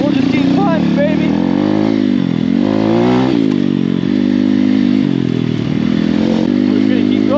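A pit bike engine drones loudly and steadily while climbing a hill on an enduro trail in second gear, held at constant throttle with slight pitch shifts, close and continuous throughout.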